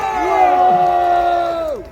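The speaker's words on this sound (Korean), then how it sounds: "박수가 좀 부족한 것 같은데 박수 한번 주세요." A crowd at a Saturday political rally outside Seoul Station lets out a loud, sustained collective shout and cheer that rises, holds steady and tails off after about two seconds; no distinct clapping stands out.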